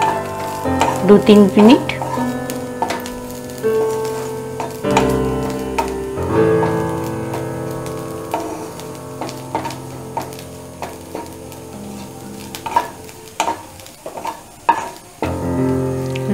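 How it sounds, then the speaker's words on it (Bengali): Grated coconut fries in a wok over a low flame for ghugni, a steady close sizzle broken by spatula stirs and scrapes, while someone speaks briefly. "আগে আমি নারকলটা একটু ভেজে নিচ্ছি"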